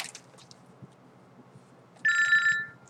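A telephone rings once with a bright electronic ringtone burst near the end, loud and close over a quiet room.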